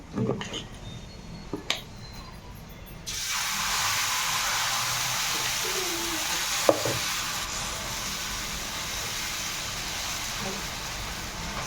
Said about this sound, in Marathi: गरम झाला, आपण त्याला तेल लावून घेऊ